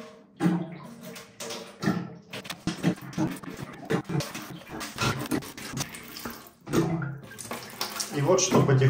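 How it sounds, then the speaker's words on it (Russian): Water trickles and splashes steadily as it drains out of an electric water heater boiler, a continuous close gush with some irregular surges, while someone talks over it. "И вот что потихонечку уже сливается с нашего бойлера."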